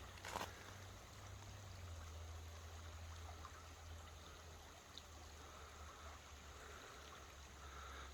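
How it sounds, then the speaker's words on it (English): A small creek in West Virginia flows steadily, a constant close wash of trickling water with no voices, holding an even level throughout. "I'll leave y'all with one more look at this gorgeous little creek."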